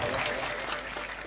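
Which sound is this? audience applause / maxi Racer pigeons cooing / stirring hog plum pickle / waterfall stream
audience applause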